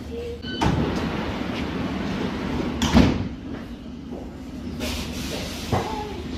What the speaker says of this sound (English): Sheena, this is our train, dude.